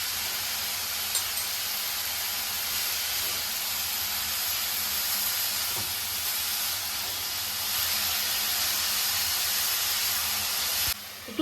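Steady, moderately quiet steam hiss from vegetables boiling in a covered pot, holding constant for about eleven seconds with a few faint clicks and a soft bump right at the end.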